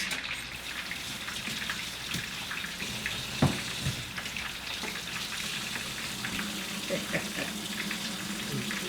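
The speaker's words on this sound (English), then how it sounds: "now let me wash my hands" Hands being washed under running tap water in a home kitchen, a steady hiss of flowing water with light splashing throughout, moderately close, with faint talk in the background.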